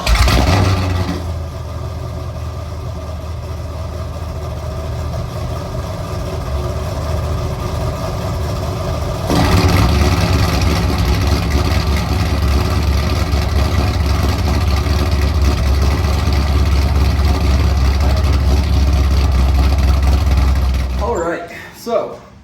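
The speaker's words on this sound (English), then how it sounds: "All right, an official cold start. Morning after, exhaust is done. We're gonna start with the valves closed" A Corvette Z06 with a modified valved exhaust makes a cold start with the valves closed, settling into a loud, steady low idle that steps up in intensity partway through before cutting off near the end, up close.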